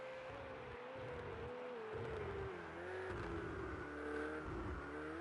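A Ferrari race car engine in Project CARS 2 drones steadily on a warm-up lap at Monza, a sustained whining tone that shifts slightly in pitch, fairly faint and continuous with no voices.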